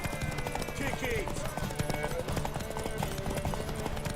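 Horse hooves clip-clopping at a steady gallop in The Witcher 3 video game, a rapid repeated thudding rhythm under in-game voices and ambient noise.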